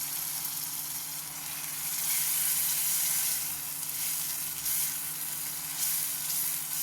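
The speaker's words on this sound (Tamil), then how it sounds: "இப்போ நான் 2 தக்காளி பழம் அரைச்சி வச்சுருக்கேன், அதையும் எடுத்து ஊற்றிருக்கேன்." Ground tomato paste made from two tomatoes hits a hot pan of sautéed onions for a pea kurma and sizzles steadily, a close, even hiss of frying with gentle swells and no voices.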